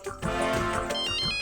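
A phone rings with an incoming call in a comedy drama household, a bright electronic ringtone melody with layered tones playing continuously and fairly loud.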